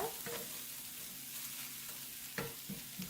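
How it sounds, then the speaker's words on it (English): Sweet potato taco filling simmers uncovered in a pan, a steady low sizzle of liquid cooking off with a few soft stirring scrapes, fairly quiet and close. "leave the lid off of it. Cook off the excess liquids."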